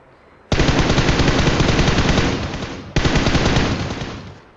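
Two long, loud bursts of automatic gunfire in a battle royale video game, the first starting abruptly and the second following after a split-second break before fading, with no talk.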